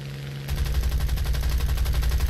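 Aircraft machine guns firing tracer rounds in the War Thunder air combat game, a Hurricane fighter: a sustained rapid burst starting after a brief quiet lead-in, dense rattling shots over steady engine drone, loud and continuous with no talking.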